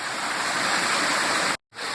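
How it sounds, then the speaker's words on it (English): Water pours out of a fountain at a cave pilgrimage site and flows downstream, making a loud, steady rushing hiss up close that cuts out briefly for a moment before resuming. "Here's where the water comes out of the fountain. Goes downstream from here."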